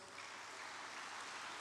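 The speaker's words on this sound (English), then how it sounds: "can we give another warm applause" Applause from an audience at a youth model United Nations assembly in Ogun State, a faint, steady patter of many hands clapping that continues throughout.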